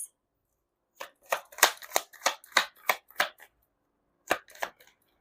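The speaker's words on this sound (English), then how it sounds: "You saw me shuffle as always, right?" Deck of tarot cards being shuffled, a run of quick crisp riffling bursts in close succession, a pause, then two more bursts, close and alone with no talking.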